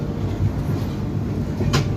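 The Kumbha Express train rolls into the platform at Haridwar station with a steady rumbling clatter, a brief sharp screech rising near the end, and no talk.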